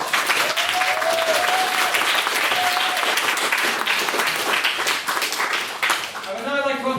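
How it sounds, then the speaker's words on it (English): Loud, dense applause in a debating chamber after a maiden speech, continuous clapping from a full room with a few cheers, easing briefly before picking up again at the close. "can we please give him another round of applause for a fantastic maiden speech"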